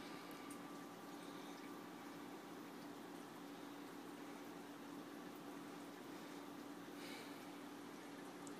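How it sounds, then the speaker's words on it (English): Air bubbler running in a saltwater reef aquarium, a steady, soft, continuous fizz of bubbling water with faint trickles, holding at an even low level throughout with no talking. "why there's bubbles, why we have a bubbler in the aquarium"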